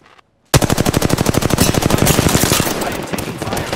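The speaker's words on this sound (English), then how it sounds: "I am taking fire" Rapid automatic gunfire in a first-person shooter game, a loud sustained burst of evenly spaced shots starting abruptly after a brief near-silence and running to the end.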